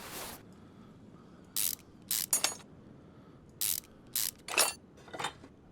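Removing a brake caliper in the Car Mechanic Simulator game brings crisp, loud ratchet clicks from a wrench in short separate bursts: one at the very start, then several spaced clusters, with near silence between them.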